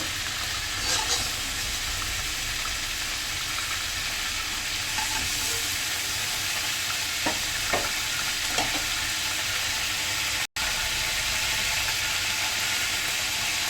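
Chicken pieces sizzle in a pan of oil while being lightly fried, a steady close hiss with a few faint stirring scrapes and a very brief dropout near the end.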